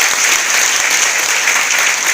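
A large meeting audience claps vigorously for a leader being introduced, a loud, even burst of many hands with no speech over it.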